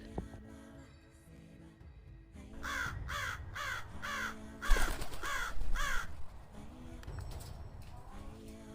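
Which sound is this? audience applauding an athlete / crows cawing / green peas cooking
crows cawing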